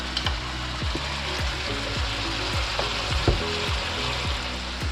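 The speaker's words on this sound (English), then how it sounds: "I've just turned the heat right up to this to try and give it a bit more of a crispiness in the bacon." Bacon and onion fry over high heat for lasagne, giving a loud, constant sizzle in the pan while a spoon stirs them with repeated scraping knocks in an uneven rhythm; no voices.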